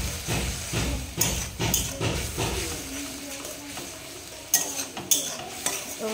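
Turmeric, cumin and coriander powder masala with green chilli paste frying in a pan for a lote fish curry, sizzling under repeated scraping stirs and sharp clinks of a spoon against the pan.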